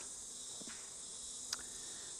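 Bees in an opened hive's brood box make a faint, steady, high buzzing drone throughout, with a couple of brief soft knocks.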